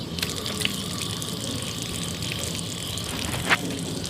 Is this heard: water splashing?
yes